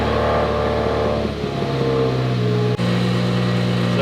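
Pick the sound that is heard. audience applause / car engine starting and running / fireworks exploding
car engine starting and running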